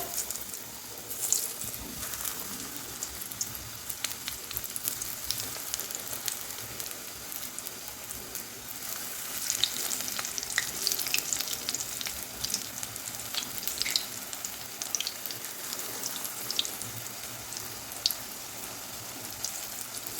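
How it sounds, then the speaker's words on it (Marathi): Onion and potato bhaji fry in hot oil over medium heat, a steady close sizzle with scattered pops and crackles throughout, swelling slightly midway. "मीडियम ठेवून भजी तळून घ्यायची"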